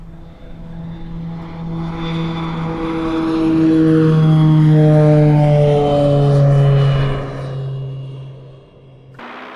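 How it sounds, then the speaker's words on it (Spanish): A Boeing 747 airliner comes in to land, its engines giving a loud, steady drone with strong tonal hum that swells midway and fades, then stops abruptly near the end. There is no talking. "Atención, Boeing 747-1134. Le damos pista para aterrizar."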